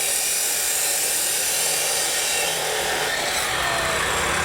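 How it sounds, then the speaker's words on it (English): A power tool cuts steel tubes at a building site next to a bunkhouse in the Philippines, making a loud, continuous, high-pitched grinding whine that holds steady throughout. "cutting steel tubes in preparation of using those for forms"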